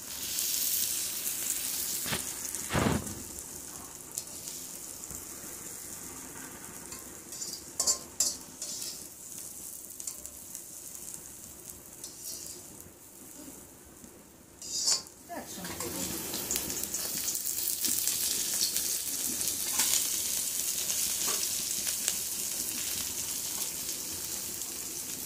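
Vegetables, capsicum among them, frying and sizzling in a hot pan in a home kitchen, a steady bright hiss running the whole time with a few sharp clinks and stirring bursts partway through.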